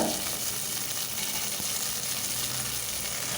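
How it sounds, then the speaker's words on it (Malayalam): Mustard seeds, fenugreek, dried red chillies and curry leaves frying in hot oil for a soybean curry, a dense, continuous crackling sizzle at close range with no talking. "കടുക് പൊട്ടി വന്ന സമയത്ത് നമുക്കിതിലേക്ക് കാൽ ടീസ്പൂൺ ഉലുവ കൂടി ചേർത്ത് കൊടുക്കാം"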